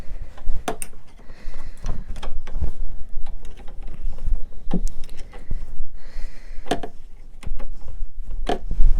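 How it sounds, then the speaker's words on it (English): A 12mm spanner works a bolt loose on a Super Soco TC Wanderer motorbike's rear brake, giving irregular metallic clicks and ratcheting knocks close by, with scraping handling noises in between. "So you need a 12mm spanner, and then we'll just loosen this off."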